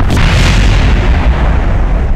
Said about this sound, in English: at least we get to see the pretty particle effects of the new explosions